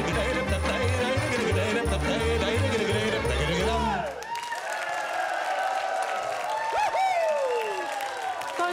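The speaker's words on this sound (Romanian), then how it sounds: "aplauze!" Audience at a live televised folk-music talent show semifinal applauds and cheers loudly and steadily, with music ending under the opening seconds and a presenter's voice calling out over the clapping.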